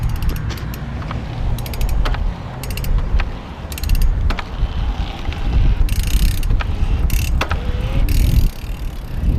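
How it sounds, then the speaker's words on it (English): Mechanical clunks, creaks and ratcheting from an electric mountain bike's drivetrain and motor on starting in EMTB mode, repeated irregularly over rolling noise, close and fairly loud. "it's just kind of a clunking kind of a sound"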